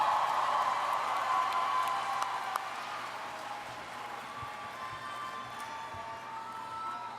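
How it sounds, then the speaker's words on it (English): A large crowd at a 2018 high school graduation ceremony claps and cheers in a steady, wash-like roar that holds for several seconds at an even level, with no speech heard. "Let's give her a big round of applause."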